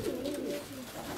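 Pigeons coo softly inside a dovecote, a short low burbling call that is fairly close, with light background noise and no talk.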